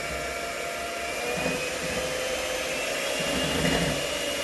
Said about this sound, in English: then you can ramp the speed up on your mixer a little bit